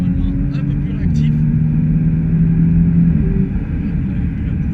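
A 2018 Audi RS5 pulls hard in dynamic mode, a steady close engine drone rising slightly in pitch, with a voice speaking over the powerful rumble.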